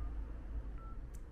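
A short run of telephone keypad dialing tones as a call goes out to an insurance company from a car stranded out of fuel on an expressway: a few quick beeps, quiet and close.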